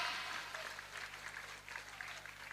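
Applause from an audience at an outdoor religious sermon gathering, a short burst of scattered clapping that is moderately distant and steady, with no voices over it.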